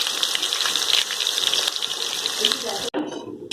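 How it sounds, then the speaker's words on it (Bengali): Marinated chicken sizzling in hot oil for a Bengali-style methi chicken, a steady hissing fry that cuts off sharply near the end, leaving quieter crackles. "এবার আমি চিকেনগুলোকে এখানে তেল গরম করে দিয়ে দেবো, ফ্রাই করে নেবো চিকেনগুলোকে।"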